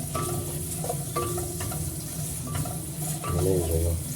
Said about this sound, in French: Donc là par exemple on va faire revenir les oignons.